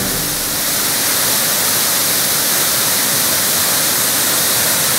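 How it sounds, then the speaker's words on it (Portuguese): The Salgateria waterfall in Chapada dos Guimarães roars as a steady, dense rush of falling water, loud and unbroken, with no voices. "Cachoeira da Salgateria, Chapada dos Guimarães."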